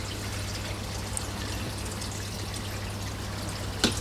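Water trickles steadily through a koi pond drum filter that is partly blocked, flowing slower than usual, with a constant low hum beneath and a brief louder splash near the end.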